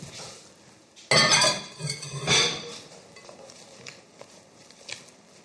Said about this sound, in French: Je me mets la vaisselle de côté.